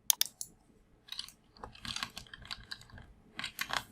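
Keys clicking in short, irregular bursts on a computer keyboard while coding, close and fairly quiet, with brief pauses between the flurries of typing.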